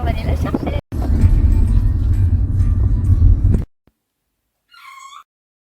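A kitten gives one short, high meow near the end, alone after a stretch of loud, steady rumbling noise that cuts off abruptly.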